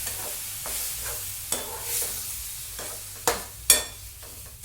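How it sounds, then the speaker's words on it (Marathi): Roasted semolina upma being stirred in a pan as buttermilk is poured in, with a soft steady sizzle, scraping strokes and a few sharp spoon clinks against the vessel, close and without talk. "असं फिरत राहायचं आणि ताक टाकत राहायचं"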